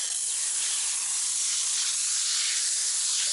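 Wheel cleaner spraying from an IK9 foam sprayer onto the wheel of a Mercedes S560: a continuous, loud, close airy hiss that holds steady throughout with no talking.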